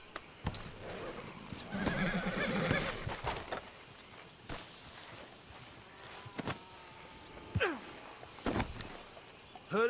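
In the Red Dead Redemption video game, a horse gives a loud whinny, followed by scattered hoof clops and soft ambient game sounds.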